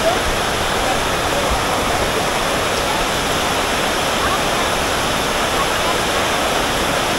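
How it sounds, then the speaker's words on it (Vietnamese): Very heavy rain pours down in Nha Trang as a loud, dense, unbroken roar that stays constant from start to finish. "Cả nhà mưa rất lớn nha, mưa rất to luôn."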